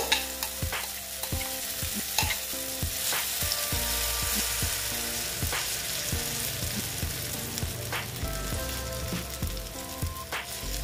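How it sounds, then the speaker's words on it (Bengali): Batter-coated teasel gourd (kakrol) frying in hot oil, a steady close sizzle with repeated scraping stirs throughout, no voices. "এখন আমি এই ব্যাটারটা এখানে দিয়ে দিচ্ছি, পুরোটাই দিয়ে দিচ্ছি।"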